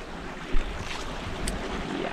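Strong waves in a wave pool churn and wash in a broad rushing roar, steady and close, with a brief thump early on and wind-like hiss throughout.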